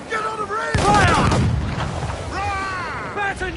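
Cannon fire during a naval battle in the video game Assassin's Creed IV Black Flag, a heavy booming blast near the one-second mark with a long rumbling tail, while shouted voices carry on over it.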